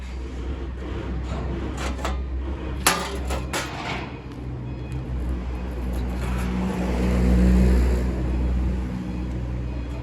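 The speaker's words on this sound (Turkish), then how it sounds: "Hani her yerde sürekli bir araba sesleri, kamyon sesleri." Steady car and truck traffic in an industrial zone forms a continuous low rumble, with a brief sharp clatter near three seconds and a swell of engine noise toward the end.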